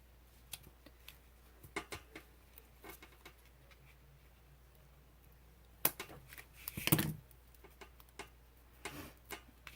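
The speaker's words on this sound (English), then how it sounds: "I'm just going to set them on there and snip" Scissors snipping small pieces of paper during a papercraft project, scattered light close-up cuts in an irregular rhythm with one louder rustle of paper handling.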